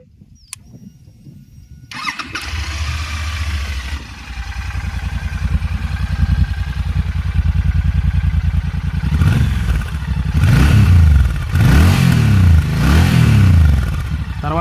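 A Royal Enfield Continental GT 650 with a stock, unmodified engine cranks and fires up close by, settling into a throbbing idle before being revved several times in rising and falling bursts.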